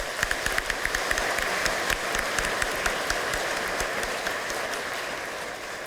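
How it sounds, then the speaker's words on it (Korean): Crowd applause at a provincial governor's inauguration ceremony in South Chungcheong, Korea, a steady wash of many hands clapping with scattered sharper claps throughout, no speech. "여러분 큰 박수 한번 보내주시기 바랍니다"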